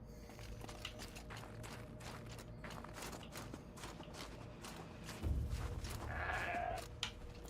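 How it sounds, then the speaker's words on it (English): A goat bleats in the snowy wilds of the video game Horizon Zero Dawn. One fairly close, wavering bleat rises late over a quiet bed of ambient wind and game sound, with no talking. "I heard a goat and I need its bones."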